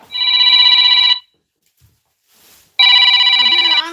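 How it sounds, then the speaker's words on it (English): A mobile phone rings with a loud electronic ringtone, two bursts of bright repeating tones separated by a short silence, close by in a quiet room during a balloon bouquet tutorial. "my phone is ringing."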